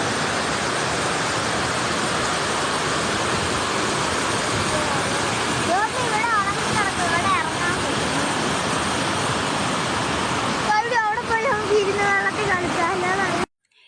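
A stream-fed waterfall roars as a constant, loud, broadband rush throughout, while voices talk over it in the middle and near the end.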